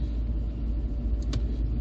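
A 1989 Volvo 240 2.0 GL estate with power steering drives steadily along, its deep low rumble of engine and road noise continuous and close throughout, with no voices.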